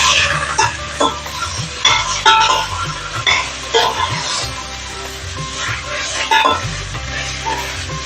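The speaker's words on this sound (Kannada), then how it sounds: "ಈ ಹುರಿಬೇಕಾದ್ರೆ ಈ ಚಟಪಟ ಅಂತ ಒಂಥರ ಸೌಂಡ್ ಬರುತ್ತಲ್ಲ, ಇದೇ ಒಂಥರ ಮ್ಯೂಸಿಕ್ ಅಲ್ವಲ್ರಿ." Mushrooms frying in a pan for homemade veg pasta, giving a steady crackling sizzle with scraping and stirring clatter, close and loud throughout.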